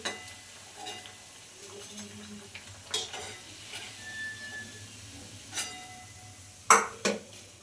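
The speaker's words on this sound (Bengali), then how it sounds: "তো এইভাবে সবগুলো আমি ভেজে নিচ্ছি" Bora fritters frying in hot oil in a pan, a quiet, continuous sizzle broken by occasional scrapes and clinks of a spatula or utensil against the pan, ending in a few sharper metallic knocks.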